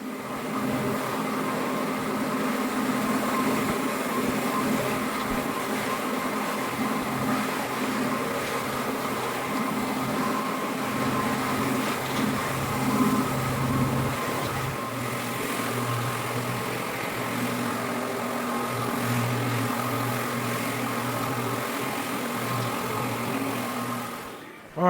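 A floor buffer screens down a finished wood floor during restoration, giving a steady, continuous motor drone with a low rumbling hum that holds at an even level throughout.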